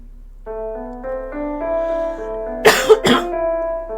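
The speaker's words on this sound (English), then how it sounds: "I'm so sorry, I keep coughing." Two sharp coughs close to the microphone, heard over a soft tonal background of sustained musical notes.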